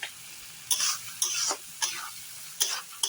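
Dried chilli paste masala for ghugni sizzling in a pan while a spoon stirs it, with five sharp scraping strokes spaced evenly over a low steady fry.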